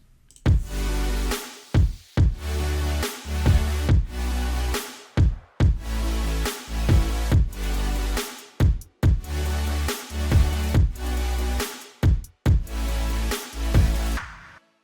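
A loud melodic EDM drop with heavy bass and bright synth chords, pulsing in rhythmic, choppy bursts with brief gaps.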